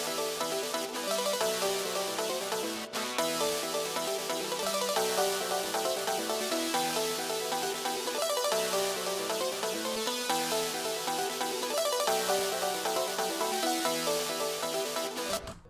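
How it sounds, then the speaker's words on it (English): A metallic Serum synth beat with distortion, filter, Xvox and reverb plays as a dense, loud, continuous pattern with repeating chopped rhythmic phrases and no talking. "We got the metallic synth, whole lot of effects on here, but what makes this stand out is the distortion and the filter."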